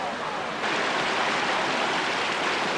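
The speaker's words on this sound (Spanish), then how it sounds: "La cascada es Carilafken." The Carilafquen waterfall in Neuquén roars steadily, a dense, continuous hiss of rushing water close by with no pauses.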